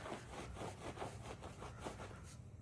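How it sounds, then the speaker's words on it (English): Alcohol wiped quickly across an epoxy-coated garage floor with a cloth, a close run of rhythmic rubbing strokes with no talking. "I'm just gonna give it a quick wipe there."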